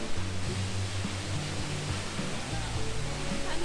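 Rushing water from Git Waterfall in Bali forms a steady, broadband roar, with low music or voices faintly mixed beneath the constant spray.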